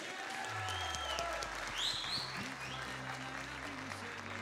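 Audience applause at a yeshiva high school graduation ceremony, a steady, moderately faint clapping beneath sustained musical tones and a brief whistle-like sound.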